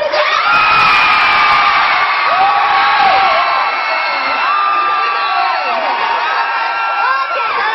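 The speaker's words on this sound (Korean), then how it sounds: "제일 크게 한번 소리 질러주세요." Large concert audience at a super concert screaming and cheering loudly and continuously, dense shrill crowd noise with rising whoops sustained throughout.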